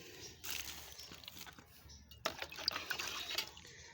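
Water splashes and trickles onto soil as gourd seeds under a plastic sheet are watered, quiet pouring bursts starting and stopping with faint rustles in between.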